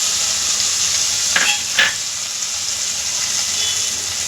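Cumin seeds sizzle in hot ghee left from frying mushrooms, a steady close frying hiss with a couple of brief spattering crackles.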